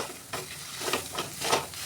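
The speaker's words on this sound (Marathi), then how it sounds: "कोथिंबीर पण तेलामध्ये छान अशी आपल्याला भाजून घ्यायची आहे" Pav bhaji masala and fresh coriander roasting in hot oil, with soft sizzling and rhythmic scraping strokes of a spoon stirring in the pan, close and moderately quiet, without any talking.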